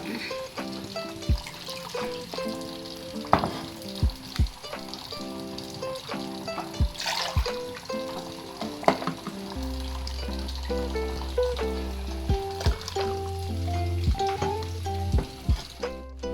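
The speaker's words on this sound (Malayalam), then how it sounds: "അതിലേക്ക് തന്നെ നമുക്ക് ഈ തക്കാളിക്കൂട്ട് ഒഴിച്ചു കൊടുക്കാം കുറച്ച് വെള്ളം കൂടെ ഒഴിച്ച് കൊടുക്കാം" Tomato mixture and water go into a hot pan for rasam, giving a sizzle with scattered clinks and stirring knocks, then a low steady hum rises near the end.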